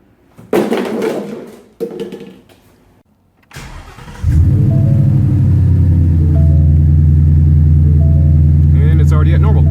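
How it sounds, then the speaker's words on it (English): A Ford Mustang's engine cranks and fires after an oil change, a brief starter whir followed by a loud, steady idle rumble that holds to the end, with some talk and clatter before it catches. "Time to start the car up."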